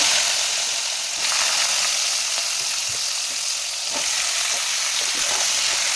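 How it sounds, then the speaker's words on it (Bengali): Washed mixed vegetables frying in oil with dried red chilli and panch phoron, a dense, steady sizzle that holds loud and close throughout, broken by faint stirring scrapes. "এটা তেল দিয়ে পুরো সুন্দর করে ভাজা ভাজা করবো"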